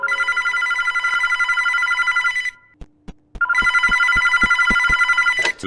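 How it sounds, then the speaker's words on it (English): A telephone in a Roblox game rings with two long, loud trilling bursts separated by a short gap of sharp clicks or taps. "the phone started to ring"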